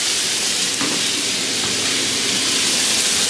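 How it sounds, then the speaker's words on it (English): Chicken marinated in bison grass vodka searing in a hot pan with pancetta, a loud, steady hiss and sizzle throughout with no voices. "Sear it for a little bit."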